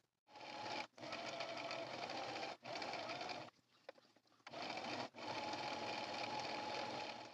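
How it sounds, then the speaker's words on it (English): A sewing machine stitching a quarter-inch seam on a drawstring project bag, running in steady continuous bursts with brief pauses between them, close and fairly quiet. "go ahead and sew along about a 1/4 inch seam allowance on that as well"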